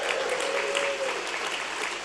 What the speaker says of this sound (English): Can we cheer for Paulden this morning?